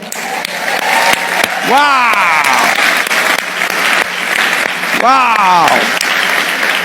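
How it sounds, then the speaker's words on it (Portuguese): Sustained audience applause fills a hall during a motivational talk, steady and close for the whole stretch, with a voice loudly shouting exclamations twice over the clapping. "Todo mundo na salva de palmas."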